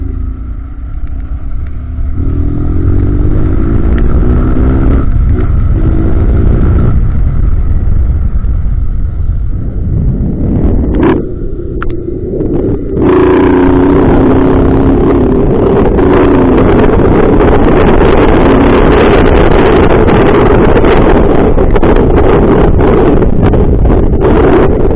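A 2022 Honda Titan 160 motorcycle fitted with a BMW 310-style exhaust revs and climbs through the gears, its engine note rising and dropping between shifts, loud and close, with heavy wind noise across the microphone.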